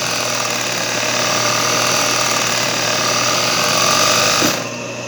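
A sewing machine runs steadily, stitching the inner flower details of a Richelieu-embroidered cushion, a close, continuous mechanical whir that cuts off abruptly near the end.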